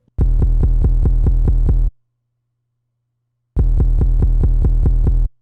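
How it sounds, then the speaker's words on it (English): Two loud, deep 808 bass notes with a buzzing, pulsing texture, each lasting under two seconds and separated by a gap of near silence. "we're going to have our first 808 in this beat"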